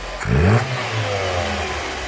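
A Tofaş Şahin with a fuel-injected engine converted to a carburetor is revved once in a sharp, close blip, then settles back to a steady idle.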